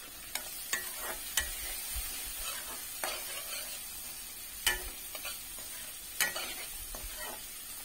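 Boiled potato pieces being stirred into an egg curry in a pan, with a steady sizzle and repeated sharp scraping strokes of a spoon against the pan, close and fairly loud.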